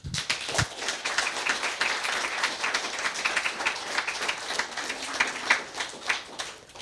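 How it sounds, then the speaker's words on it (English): An audience at an evening arts lecture applauds warmly, a dense, steady patter of many hands clapping for nearly seven seconds with no talk over it. "Please join me in giving her a very big round of applause."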